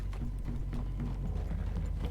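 Horses in the Red Dead Redemption 2 video game clip-clop steadily at close range, a continuous run of hoof beats over a low rumbling bed, with no talk.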